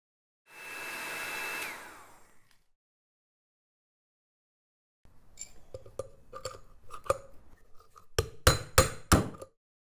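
A heated motorcycle wheel bearing tapped out of a café racer wheel: a torch-like hiss first, then silence, then a series of sharp metallic knocks growing louder toward the end.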